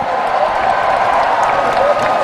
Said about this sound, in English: Allan gets a big round of applause from this appreciative crowd